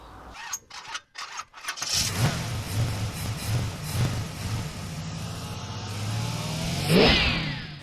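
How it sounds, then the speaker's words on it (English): A worn rear wheel bearing on a Peugeot 407 gives a steady, close, low rumbling grumble mixed with broadband road and engine noise, rising briefly near the end, with no talking. "Cue shot of rumbly noisy wheel bearing now. You hear the grumble?"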